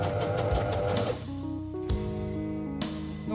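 A sewing machine runs steadily, stitching fabric for a reversible tie-handle tote bag, its motor hum changing pitch briefly partway through, close and alone with no talk.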